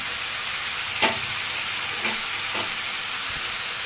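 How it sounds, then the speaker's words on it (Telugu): Mutton frying in oil with turmeric, chili and salt, a continuous sizzle with three brief scraping stirs, close and moderately loud, no talking. "ఒకసారి అంతా ఇలా కలుపుకొని ఒక 2 నిమిషాలు నూనెలో మగ్గనివ్వాలి"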